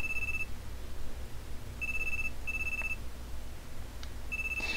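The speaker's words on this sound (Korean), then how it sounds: "휴대폰이 시끄럽게 울리며 반짝반짝 빛을 내고 있다." A mobile phone ringing loudly in a video game, repeated electronic ring bursts with gaps between them, standing out clearly over a low background hum.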